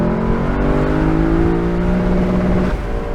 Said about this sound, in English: Yuri from the Straight Pipes wants to see me banging off the Rev Limiter.